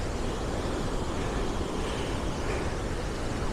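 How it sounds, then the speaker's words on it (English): Water rushes down a waterfall in Lynn Valley Park, a steady broadband roar that fills the whole moment without pause, loud and constant with no voices. "there's this waterfall that I don't seem to remember from last time even"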